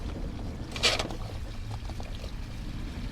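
Water runs and pours through a sewer clean-out beside roof vents, a steady low gush with a brief louder splash near the start, no voices.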